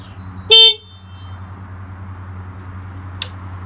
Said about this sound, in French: je vais vérifier à l'aide du bouton le bon fonctionnement de l'avertisseur sonore